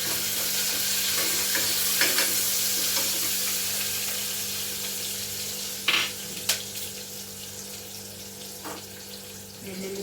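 Curry leaves and dried red chillies sizzle in hot oil for mango dal, a continuous close crackle with stirring scrapes and a couple of sharp pops near the end, fading slightly.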